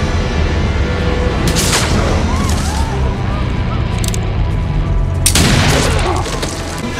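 Gunfire and booming blasts in a tense scene from a Westworld episode, with loud bursts of shots over a constant roar, several dense volleys including a heavy one near the end.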